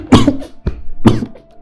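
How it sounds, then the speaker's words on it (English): A single person gives two sharp coughs close by, each a short harsh burst, with a brief throat sound between them. "how your lie make me cough"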